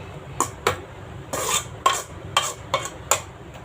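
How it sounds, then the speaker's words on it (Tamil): A spoon stirs pumpkin cooking in milk in a pan, making about eight short, close scraping strokes in an uneven rhythm with no talking. "நல்லா இந்த பாலில் இந்த பரங்கிக்காய் வேகட்டும் மஞ்சள் பூசணிக்காய் நல்லா வேகட்டும் கிளறி விட்டுட்டு நல்லா வேக வச்சுக்கலாம்"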